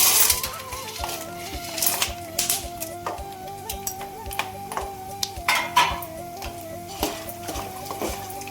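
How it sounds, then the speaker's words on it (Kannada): Chickpeas tipped into a metal frying pan while cooking spicy puffed rice at home, giving scattered light clinks, rattles and a faint metallic ring, fairly quiet and close. "ಫ್ರೈ ಆದ ನಂತರ ಕಡಲೆ ಹಾಕ್ಕೊಂಡು ನಾನು ಇವಾಗ ಕಡಲೆ ಹಾಕ್ಕೊಳ್ತಾ ಇದ್ದೀನಿ."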